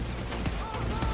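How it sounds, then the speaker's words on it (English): Dense gunfire rattles through open city streets during a gang shootout in GTA V Online, a loud continuous barrage of overlapping shots with no pauses. "The one downside to all this gunfire out in the open streets is it does spook the NPCs"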